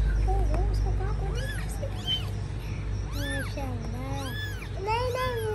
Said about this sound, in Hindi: ओ बिल्ली आ रही है।